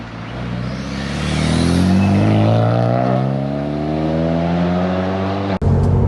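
A modified track-focused Renault Megane RS pulls away under part-throttle acceleration from about 30 mph, its engine note rising in a strong, close, steady drone heard from inside the car before cutting off abruptly.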